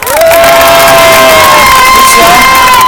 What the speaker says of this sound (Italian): Glielo facciamo un applauso a Lucio?